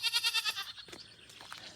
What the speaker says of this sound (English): The goats are talking, the cows are talking,